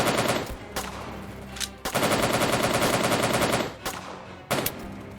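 Dense, sustained gunfire from soldiers in a Soviet soldier video game: loud, continuous automatic bursts that rattle on for several seconds, with short gaps and sharp renewed volleys.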